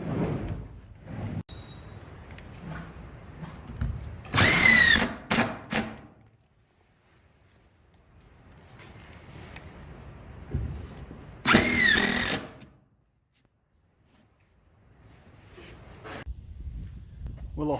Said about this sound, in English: clamp it, shoot our screws to make sure that we are nice and tight all the way down.